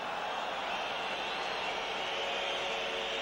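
Roaring football stadium crowd at a Feyenoord versus Tottenham Hotspur match, a dense, steady wall of broadband noise that holds loud and unbroken throughout.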